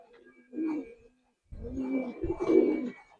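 A pair of silver Giribaz pigeons coo close by in soft, throaty bursts, one short call followed by a longer, rolling coo after a pause.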